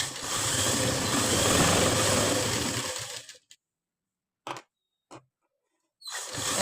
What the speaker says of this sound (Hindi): ऐसे ही दूसरी तरफ सिलाई लगानी है जो हमने मार्क किया है